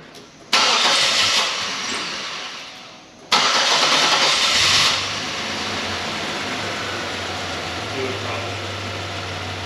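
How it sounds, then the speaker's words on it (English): Old Buick car engine being started in a shop, two cranking bursts with the second catching, then the engine settling into a steady, even idle. "we're gonna go ahead and start our file again and start the car."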